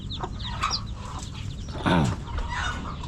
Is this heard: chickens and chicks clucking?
yes